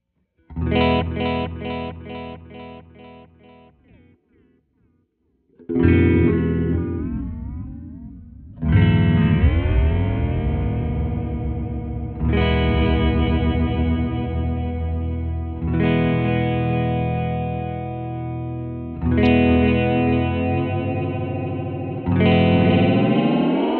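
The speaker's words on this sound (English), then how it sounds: "I'm going to sweep the shift knob all the way around so you can hear the full width of each toggle position, starting with frequency" An electric guitar runs through a Red Panda effects pedal, fully wet, in frequency mode while the shift knob is swept. Sustained strummed chords ring out one after another with a swirling, shifting, chorus-like tone and long decays.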